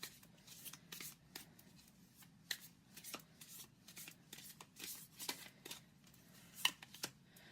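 Tarot cards shuffled and drawn from the deck in a quiet room, with soft irregular riffles, flicks and slaps of card stock scattered across several seconds, close and faint, no talking.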